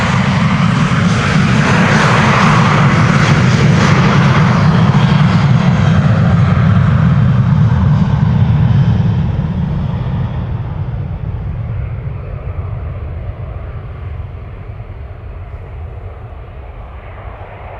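Loud jet engine roar from a Boeing 737-700 airliner taking off at Amsterdam Schiphol and turning away, a deep powerful thrust rumble that holds strong, then fades steadily into the distance.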